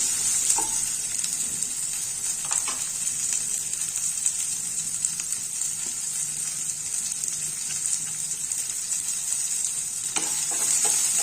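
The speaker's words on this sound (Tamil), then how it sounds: "இதை நல்லா வதக்கலாம். இது கொஞ்ச நேரம் நல்லா வதங்கட்டும்." Ridge gourd peel and adamant creeper sauté in a hot pan for a chutney, giving a loud, steady, close sizzle that runs unbroken throughout, with a few faint stirring knocks and no voices.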